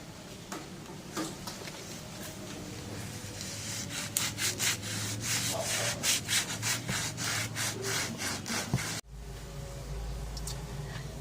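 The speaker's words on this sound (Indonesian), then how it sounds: "amplas permukaan yang bocor atau retak dengan menggunakan kertas pasir" Sandpaper rubbed back and forth over the cracked, leaking surface of a plastic bath tub, a steady rasping scrape with a run of quick strokes in the middle before it stops abruptly, leaving a low background hum.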